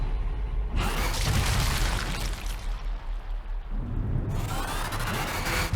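Explosions in the video game Zombie Army 4, heavy booming blasts with long rumbling, crackling debris tails, loud and close, one swelling roar fading midway before a second surge near the end.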